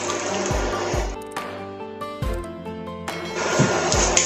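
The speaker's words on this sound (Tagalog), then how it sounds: "Now, let's add our coconut milk" Coconut milk pours into a cooking pot of chicken caldereta with potatoes, making a steady liquid splash that runs continuously with a few brief breaks. Music with rhythmic beats plays over it. No one speaks.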